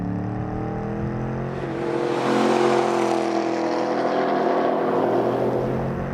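A 2013 Chevrolet Camaro SS with the 1LE package accelerates hard in second gear on a track's front straight, the V8 rising in pitch and swelling louder, a sustained close engine roar with no talk.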